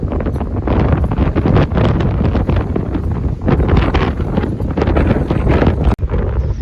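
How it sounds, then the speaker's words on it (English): Strong wind gusts of about 60 mph buffeting a microphone by a roadside in Colorado, a loud continuous roar with surging bursts and a short dropout near the end, no one talking. "That wind is insane."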